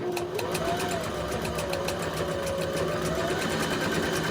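Domestic sewing machine stitching a reusable shopping tote, a steady fast motor whir with rapid rhythmic needle ticking, close and continuous throughout with a faint voice underneath.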